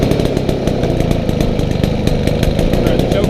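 A small gas engine on a mosquito fogger runs with a loud, steady, fast buzzing chug close by, holding an even rhythm throughout.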